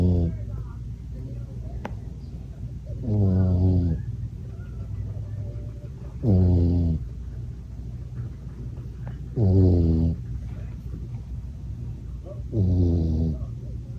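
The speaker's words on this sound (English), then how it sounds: "Let me slip in that little clip of him snoring this morning." A sleeping puppy snores in slow, regular cycles, four loud nasal snorts spaced about three seconds apart over a quiet background hum.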